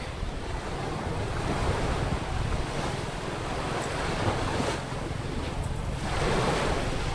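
Rough sea surf off the Cuatro Islas in the Philippines washes steadily, a continuous broadband roar with gusts of wind buffeting the microphone.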